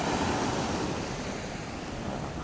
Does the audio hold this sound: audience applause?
no